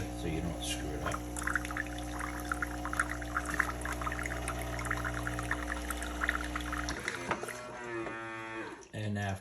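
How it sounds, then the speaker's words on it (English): A MEROL super automatic espresso machine runs its self-rinse cycle, a steady pump hum and droning tone with water pouring for about seven seconds before it stops, followed by a brief voice. "And the first thing it does is it cleans itself out."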